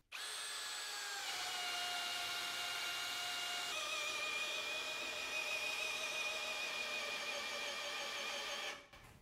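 A Ryobi cordless drill runs on a high-performance battery, a steady, slightly labored whine that starts sharply, shifts pitch twice, holds for about eight seconds and then cuts off.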